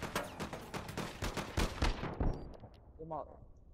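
Gunfire in the GTA video game, dense rapid automatic shots rattling together with sharp individual cracks, then fading out, with a short voice at the end.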